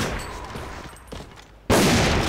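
Video game gunfire from a shooter played on PC, a dense burst of shots that cuts in abruptly and stays loud, following quieter muffled rumbling.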